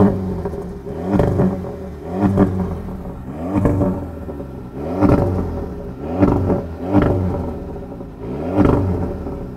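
A 2024 MG7 car's engine and exhaust, with valves that open and close, rev repeatedly in about seven even bursts, each swelling into a throaty roar and falling back to a low idle rumble.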